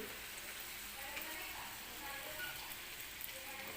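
Puris deep frying in oil, a faint, even bubbling hiss with small crackles throughout, steady and quiet with no distinct voice.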